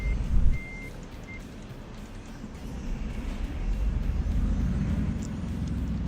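A lorry reverses nearby, its backing alarm giving a couple of short beeps over a steady engine rumble that grows louder and fuller toward the end.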